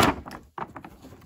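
Cardboard flap doors of a 2004 Dragon WW2 model kit box swinging open, a brief scraping rustle followed by a second soft papery movement, close and alone.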